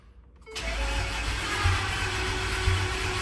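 A twin-turbo Ford F-150 engine cranks and fires after fuel is added, then settles into a loud, steady idle with a slight rev partway through.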